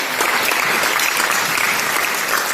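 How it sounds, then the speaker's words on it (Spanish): Loud, sustained applause from a conference audience welcoming a speaker, dense clapping that stays even from start to finish. "le demos la bienvenida a la licenciada Joana con un fuerte aplauso por favor."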